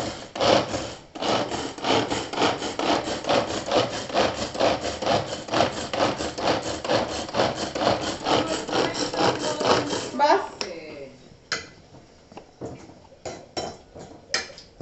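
A Pigeon handy pull-cord chopper chopping onions in a home kitchen makes a steady, rapid scraping and whirring rhythm for about ten seconds, then ends in a few loose clattering knocks.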